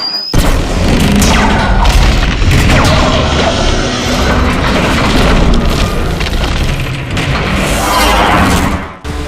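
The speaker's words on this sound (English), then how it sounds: "Finally, the bridge is destroyed." A massive destruction roar as a bridge is blown apart in a Transformers Cybertron game cinematic, a loud continuous rumbling crash of collapsing metal and explosions lasting several seconds before cutting off abruptly.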